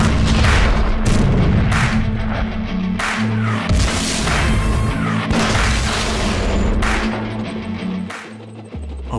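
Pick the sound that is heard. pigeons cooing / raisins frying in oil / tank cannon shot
tank cannon shot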